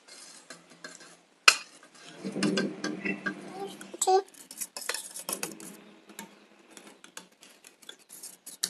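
Eggs being beaten with turmeric in a bowl for an egg bhujia curry, utensil clinking and scraping against the dish in quick irregular strokes, fairly close, with a sharp knock near the start.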